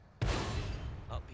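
A single sharp gunshot in a competitive shooter match, one loud crack with a short booming tail, followed by a brief fainter sound near the end.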